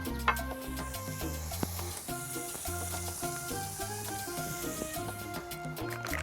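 Onions sizzle and caramelize in hot oil in a saute pot, a continuous hiss running under loud background music.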